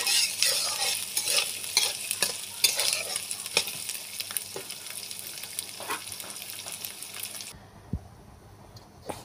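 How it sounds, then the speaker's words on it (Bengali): Black cumin seeds fry in a pan while being stirred, a close crackling sizzle broken by repeated scraping strokes of the spatula, until the hiss cuts off sharply near the end and only faint clatter remains. "এটা আমি লালচে করে ভেজে নেব"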